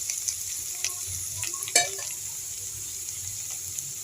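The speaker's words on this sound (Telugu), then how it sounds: "ఇదిగోండి ఇలా వేగితే సరిపోద్దండి." Ivy gourd pieces and green chillies fry in a pan for a chutney, a steady sizzle broken by stirring scrapes and one sharp clatter of the spoon, with no voices.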